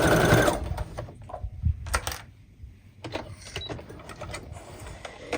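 A sewing machine runs a straight stitch at 2.5 length along a soap pouch seam, a steady mechanical whir that stops and restarts in short bursts with small clicks between runs, close and fairly quiet.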